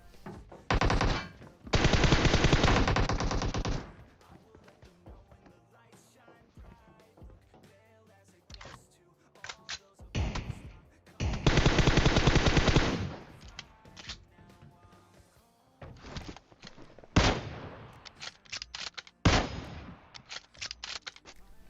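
Gunfire in the PUBG Mobile game, with a Kar98 rifle in use: several loud bursts of rapid automatic fire mixed with short single shots, separated by quiet gaps.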